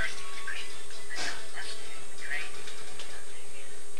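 A puppy gives a few short yips and soft whimpers, faint against steady background hiss, with a voice nearby.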